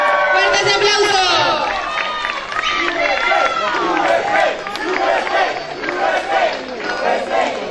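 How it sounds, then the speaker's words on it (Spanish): A crowd at an award ceremony during a Benimàmet street parade cheers and shouts together in a loud, dense wash of voices. Any clapping is buried under the cheering. "¡Fuerte ese aplauso!"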